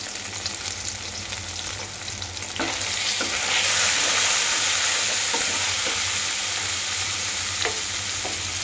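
Dried loitta fish (Bombay duck) fries in oil in a pan with bay leaves, salt and turmeric while it is stirred. A steady, loud sizzle rises partway through, punctuated by scraping spatula strokes, with no talking.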